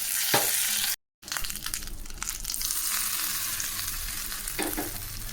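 Curry leaves, mustard seeds and dried red chillies crackle and sizzle hard in hot oil during tempering for a spicy mint chutney, with steady frying noise and stirring, broken by a brief silent gap.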